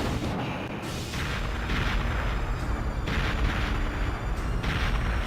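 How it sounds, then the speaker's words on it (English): Heavy, rumbling explosions aboard a ship in the video game Perfect Dark, loud booming blasts rolling one after another in a dense, continuous barrage. "This looks like a bunch of explosions are happening in the ship"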